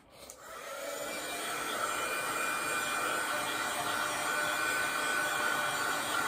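A hair dryer blows over a watercolour painting with a steady, close whirring roar that starts right away and keeps an even pitch throughout, with no voices.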